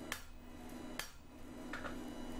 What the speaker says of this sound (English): big hammer